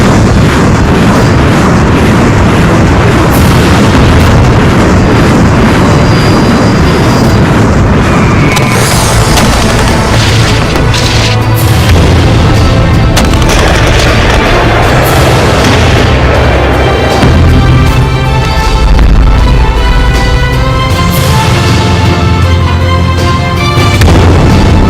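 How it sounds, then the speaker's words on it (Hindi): Heavy booms and blasts from Russian shelling and bombardment in Ukraine, loud and dense, repeating irregularly throughout with rumbling low-end impacts and bursts, no talk over them. "कभी टैंक से गोले बरसा रहा है, तो कभी लड़ाकू विमान के जरिए यूक्रेन के ठिकानों पर बमबारी कर रहा है।"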